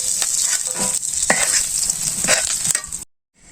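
Small fish frying in pure mustard oil, a steady loud sizzle with scraping stir strokes for about three seconds, then a brief silence before the sizzle returns.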